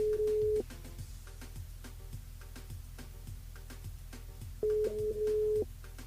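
A telephone ringing tone sounds during a live call to a radio listener, two long buzzing tone bursts at the start and near the end separated by a quiet gap with faint clicks.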